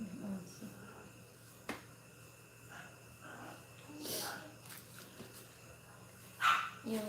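A dog makes a few faint, quiet barks and snorts at a distance, with soft speech and light background noise around it.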